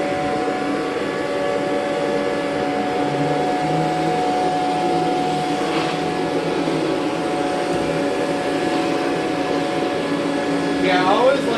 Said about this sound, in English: Yeah, I always like the vacuum